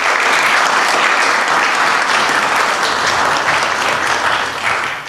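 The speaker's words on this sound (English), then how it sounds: "Let's give these gentlemen a round of applause." City council meeting attendees applaud steadily, a full, loud, continuous clatter of many hands that tapers slightly at the close.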